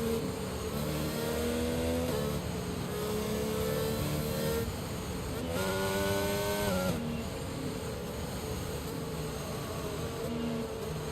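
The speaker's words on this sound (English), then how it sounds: "we're watching the safety car go around" An F1 2022 safety car laps the Bahrain circuit, a buzzy engine tone rising and falling through gear shifts, steady and fairly close, with no talk.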